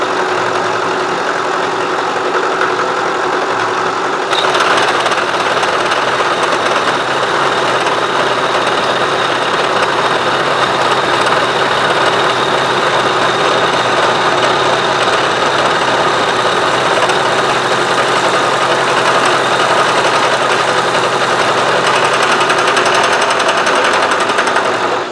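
A Harbor Freight 12-inch disc sander grinds a miter part slowly, a steady motor drone with a broad abrasive rasp that rises slightly after the first few seconds and holds constant, loud and close, no speech.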